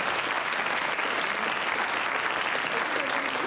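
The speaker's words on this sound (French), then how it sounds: "Oui, on peut l'applaudir." Steady studio audience applause on a radio show, dense clapping that fills the whole stretch at an even, fairly loud level with no pauses.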